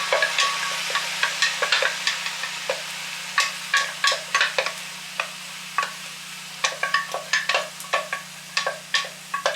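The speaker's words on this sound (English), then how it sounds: "Now, I'm also going to add the sauce that we made." Sauce sizzles in a cast iron wok while being stirred outdoors, a steady bright hiss broken by frequent sharp scraping ticks of the utensil against the metal, close and clear with no voices.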